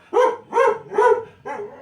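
A single dog barks four times in a steady rhythm, close and loud, each bark full and resonant with short pauses between.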